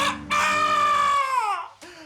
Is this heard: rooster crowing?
yes